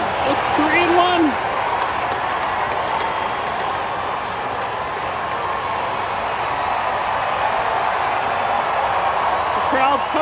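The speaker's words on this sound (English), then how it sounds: "The crowd has come alive." Baseball stadium crowd at PNC Park roaring after a base hit in a Pirates vs. Braves game, a broad sustained wash of cheering and noise from a large crowd, with a whistle briefly audible.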